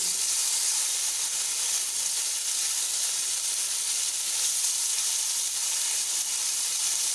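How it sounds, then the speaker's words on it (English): Tomato puree sizzles in a hot chicken curry pan, giving a steady, close hiss of steam and frying that runs evenly throughout with no talking. "Now I will add tomato puree. Just mix it."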